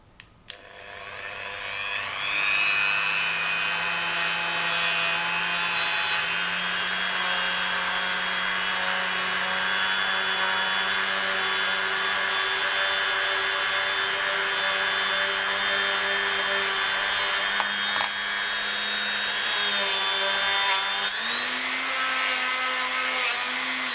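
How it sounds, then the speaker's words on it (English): A Dremel rotary tool buffs the sides of a polymer clay faux labradorite piece, spinning up after a couple of clicks into a loud, steady high whine that shifts pitch slightly under load near the end, with no talking. "I'm going to use my Dremel to just buff up the sides"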